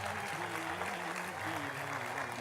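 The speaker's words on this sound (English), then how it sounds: "please give a big round of applause" A crowd at the Namami Brahmaputra Festival gives a round of applause during an Assam Rifles ceremony. Fairly faint, steady clapping runs throughout, with a low wavering tone underneath.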